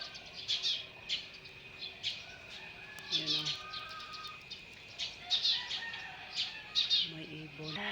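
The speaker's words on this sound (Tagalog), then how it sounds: "Puro tagtalaok ng manok at saka ibon ang maririnig mo." Birds chirp and tweet outdoors on a quiet morning in a rural yard, repeated bright calls near and far, with roosters crowing in the background and someone speaking briefly over them.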